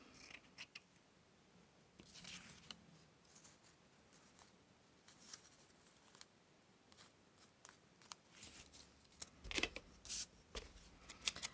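Scissors cut paper for an autumn junk journal craft; there are soft, quiet snips and paper rustles, with a few sharper clicks near the end.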